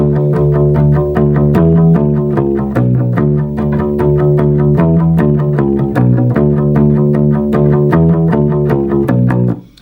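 A loud bass guitar plays a chorus riff, steady, driving plucked notes and a quick run, played alone and ending abruptly.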